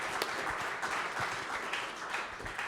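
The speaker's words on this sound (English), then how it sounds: "We'll give him one more round of applause." A live audience gives a round of applause during a coach's high school football game review show, a steady dense patter of clapping lasting throughout at moderate loudness.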